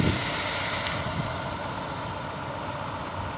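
A Chevrolet El Camino's carbureted engine runs at a steady idle, with a constant low rumble and hiss that stays close and even throughout.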